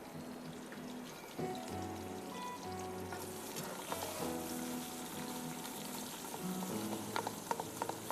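A cinnamon stick fries in hot oil in a pot, giving a soft, steady sizzle with light scattered crackles, fairly quiet and close, with no talk over it.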